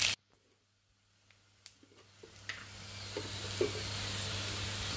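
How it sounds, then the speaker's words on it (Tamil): Onions fry in a pan until golden for a long beans curry. After a near-silent start, the sizzle swells into a steady hiss, with scattered light clicks and pops. "சேர்த்து இது கொஞ்சம் பொன்னிறமாக வரும் வரைக்கும் நாங்கள் இதை வதங்க விடுவோம்."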